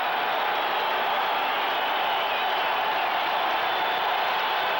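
Football crowd at Veterans Stadium during a 1989 Raiders at Eagles game, a continuous loud roar of cheering and noise that stays steady throughout.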